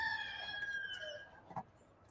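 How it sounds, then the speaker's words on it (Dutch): A rooster crows once, faint and distant, its drawn-out call fading over quiet background noise. "Nou, de haan doet ook al mee."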